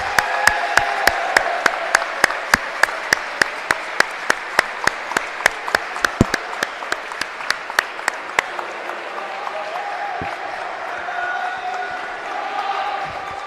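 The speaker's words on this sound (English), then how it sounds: "please give a warm round of applause to all our seniors and their parents" A gymnasium crowd at a basketball game applauds for seniors and their parents. Sharp, loud, evenly spaced claps ring out over a steady wash of clapping and crowd noise, then thin out after about eight seconds, leaving a softer murmur of applause.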